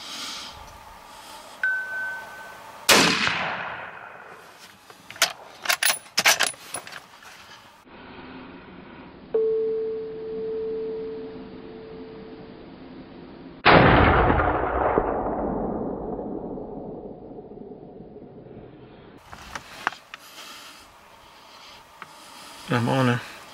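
Two loud rifle shots from a T/C Compass in 6.5mm Creedmoor ring out during a West Texas mule deer hunt, roughly ten seconds apart, each with a long rolling echo across open country, and hushed voices between them.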